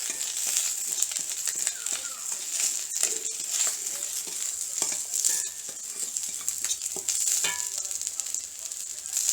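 Ground fenugreek and snakehead fish in hot oil, a continuous bright sizzle with frequent scraping stirs and clinks throughout, close and fairly loud, no voices.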